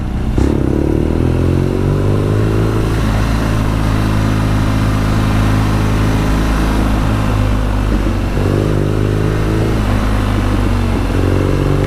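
A 2020 BMW R nineT Scrambler motorcycle's engine braking: a loud, close, steady rumble broken by sharp exhaust pops and crackles as the throttle rolls off and back on, with no talking.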